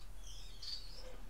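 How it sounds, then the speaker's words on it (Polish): Small birds chirping indoors in a room, a few faint high tweets drifting over a steady low background hum, with no talking. "W akompaniamencie oczywiście klasycznie ptaków u mnie w pokoju."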